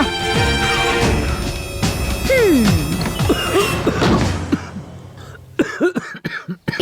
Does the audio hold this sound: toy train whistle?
no